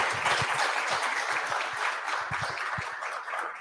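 A crowd applauds steadily, a thick wash of clapping with a few louder nearby claps standing out, fading slightly toward the end.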